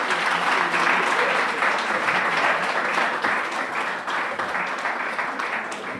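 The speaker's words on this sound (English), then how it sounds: "Please give yourselves a round of applause." Audience members and competitors at a Ministry of Health event applaud, producing a sustained, even roar of clapping from a large crowd that holds steady for several seconds.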